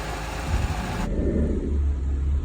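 A 1985 Mini Metro engine idles while warming up, a steady low rumble close by that holds throughout, with a sudden drop in the high hiss partway through.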